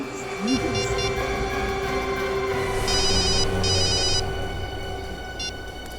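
A telephone rings repeatedly in a crime-drama scene, short electronic trilling bursts recurring over a steady background hum, with no talk.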